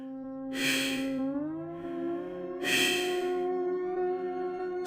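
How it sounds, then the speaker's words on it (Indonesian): Two deep, slow, heavy breaths with a snorting edge rise and fall over a low sustained drone, close and eerie, with no talking. "Bukan napas manusia biasa, tapi dalam, lambat, dan penuh dengusan."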